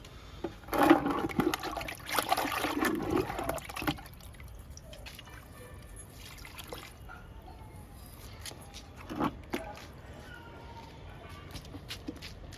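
Homemade liquid fertilizer pours from a container onto a cherry plant growing in a bucket, a close splashing gush lasting about three seconds, then fading to scattered soft drips and trickles.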